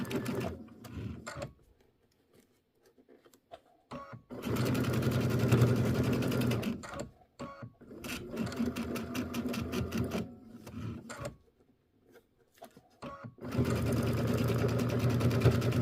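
A sewing machine stitching a quilt square in long loud whirring bursts, set to a 2.0 stitch length, with quiet pauses between runs and brief talk near the start.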